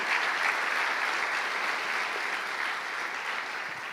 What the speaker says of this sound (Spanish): Alguien le puede dar un fuerte aplauso a nuestro Dios, por favor.